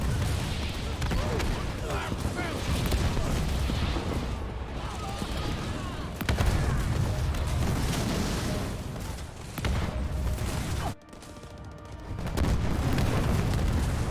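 Artillery fire and explosions in a real-time strategy video game form a loud, dense, continuous barrage of booms and rumbling blasts, briefly dipping around the eleventh second before surging again.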